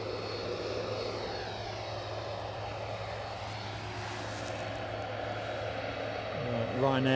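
Aircraft engine noise at Edinburgh Airport, a steady loud drone holding throughout as a plane waits or lines up on the runway, with a brief rise near the end.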